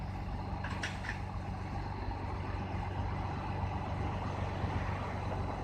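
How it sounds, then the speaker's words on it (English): A car driven by a tow truck driver gives off a steady, unbroken engine rumble for the whole stretch, with no voices over it. "oh, this tow truck driver is driving the car"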